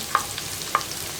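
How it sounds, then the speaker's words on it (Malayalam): Ginger and garlic frying in hot coconut oil in a pan for a beef masala served with tapioca: a steady, soft sizzle with two sharp stirring scrapes, about half a second apart. "അതിലേക്ക് നമ്മൾ എടുത്തു വെച്ചിരിക്കുന്ന ഇഞ്ചിയും വെളുത്തുള്ളിയും ചേർക്കുകയാണ്."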